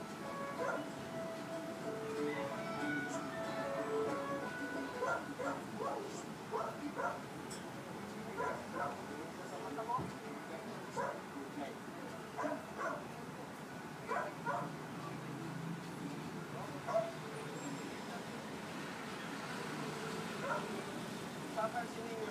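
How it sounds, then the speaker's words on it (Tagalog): A dog barks repeatedly at feeding time, with sharp yips and whimpers over a steady background hum while people talk nearby; the barks stay fairly faint and thin. "siya yung tahol ng tahol"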